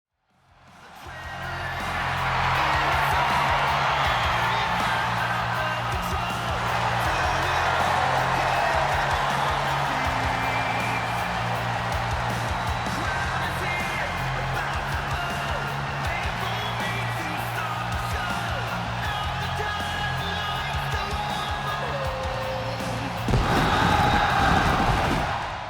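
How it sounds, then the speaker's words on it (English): A steady, dense arena crowd roar from the WWE 2K24 wrestling game rises for Sami Zayn, sustained and loud, with a sharper burst of noise near the end and a commentator-like voice talking over it. "As we see a thunderous and well-deserved reaction to friend of the channel, Sami Zayn."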